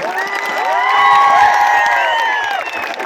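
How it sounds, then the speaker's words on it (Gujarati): A large outdoor crowd at a political rally in Bharuch cheers and shouts to welcome Punjab Chief Minister Bhagwant Mann. Loud, sustained whoops and whistle-like cries swell together, with possible clapping mixed in. "બધા માટે એકવાર તાળીઓ પાડીએ"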